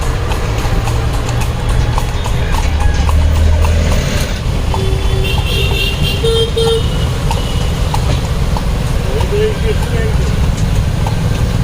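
A horse-drawn carriage rolls along a busy Kolkata street near Victoria Memorial, hooves clip-clopping steadily beneath constant loud traffic noise, engines and occasional horn toots, with people talking.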